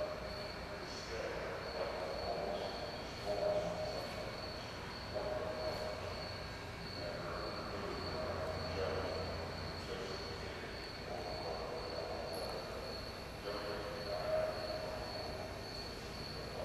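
A tram rolls through an aircraft museum, its steady rumble and faint wheel squeals running for the whole stretch, with an occasional distant voice from passengers.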